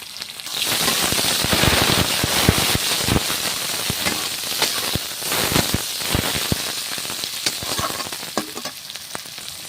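Chopped onion, cardamom, cinnamon, white cumin and chilli sizzle and crackle in hot oil in a pan for an egg curry. The frying is loud and continuous, with sharp pops and stirring scrapes close by.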